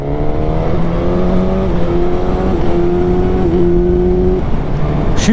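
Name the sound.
Suzuki GSX-S1000 2021 motorcycle engine accelerating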